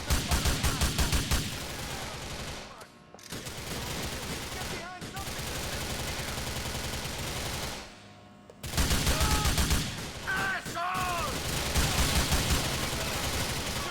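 Grand Theft Auto IV gameplay full of dense gunfire: rapid automatic bursts and overlapping shots, loud and continuous, with brief pauses between volleys and game sounds mixed in.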